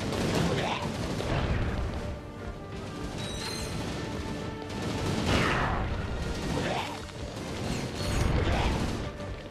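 Vector gun fired in the Ratchet & Clank: Up Your Arsenal video game, bursts of mechanical gunfire and clanks recurring in waves over game noise.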